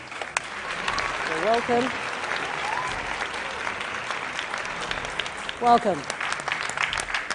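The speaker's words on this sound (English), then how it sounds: "let's invite our contestants onto the stage with a round of applause, please" A school quiz audience applauds contestants onto the stage, with steady moderate clapping throughout while a voice speaks briefly over it.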